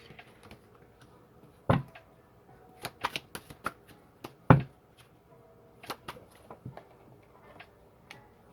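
Tarot cards shuffled and drawn by hand: soft papery riffles and sharp snapping flicks in irregular bursts, close and fairly quiet with no talking.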